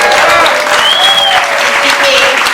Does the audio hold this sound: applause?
yes